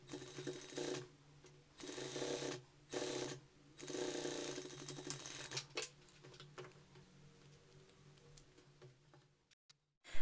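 A sewing machine stitches a folded piece of fabric in several short, quiet bursts of rapid mechanical whirring separated by pauses, followed by faint ticking and handling sounds.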